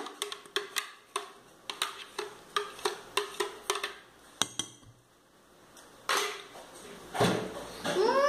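Carrot cake batter stirred in a bowl, a close run of regular clinking taps of a utensil against the dish, then a pause and some louder scraping and clattering.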